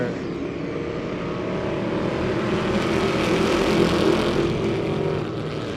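Dirt track race cars at a speedway roar off together at the green flag, a loud sustained wall of engine noise that swells and holds steady throughout.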